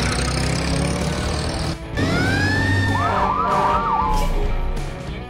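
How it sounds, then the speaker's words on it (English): A fire truck siren wails and sweeps in rising tones, then cycles through rapid up-and-down yelps, loud over a rumbling engine. "Fire truck."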